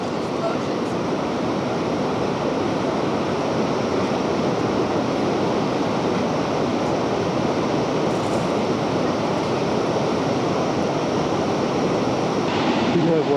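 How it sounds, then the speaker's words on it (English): The Peak 29 waterfall on a river in Nepal rushes with a loud, steady roar of broadband white water. It continues unbroken throughout, without any pauses. "Here's the Peak 29 waterfall."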